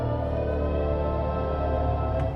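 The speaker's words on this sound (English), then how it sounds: "And in expressive mode, you have" Synthetic drive sound of a 2023 BMW i5 M60 electric sedan in expressive mode, a dense, steady layered hum with sustained tones, loud and continuous inside the cabin, no talk.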